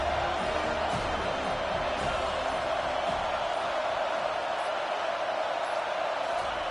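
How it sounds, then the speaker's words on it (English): A home crowd at a football game roars in a steady, loud wash of cheering that fills the whole stretch without letting up. "how nice is it to have the home crowd going absolutely bananas"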